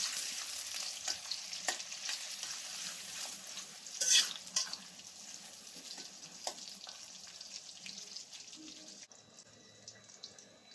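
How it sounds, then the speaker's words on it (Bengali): Steady sizzle of onions frying with scraping stir strokes in a pan, continuous and close, with a sharper clatter around the middle. "পেঁয়াজ নাড়াচাড়া করে নেবো"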